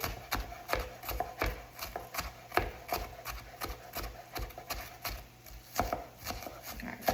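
Garlic being chopped with a knife on a board, a quick run of repeated close taps in an uneven rhythm, fairly quiet and steady throughout.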